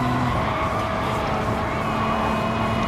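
A Gr.1 race car in GT Sport accelerating hard through an S-bend, its engine a steady loud drone with a rising tone, the roar carrying on unbroken.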